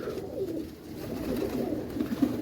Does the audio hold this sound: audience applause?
no